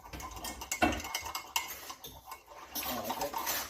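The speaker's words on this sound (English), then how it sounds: "I'll just grab a fork and stir that up." A fork stirs and scrapes through sauerkraut mixed with kelp and sea salt in a dish, giving irregular clinking taps and wet scraping strokes up close, with no talking.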